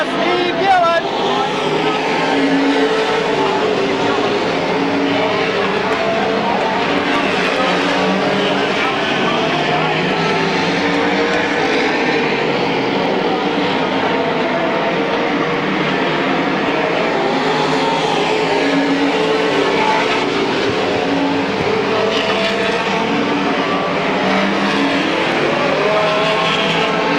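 Race cars thunder around Midvale Speedway in 1995, a dense, continuous roar of several engines at close range, with an announcer talking over the racket.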